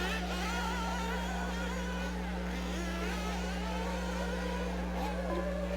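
High-pitched whining engines of 1/8 scale nitro RC buggies race on an outdoor track during an expert A main, with a steady drone and several engines rising and falling in pitch as they pass.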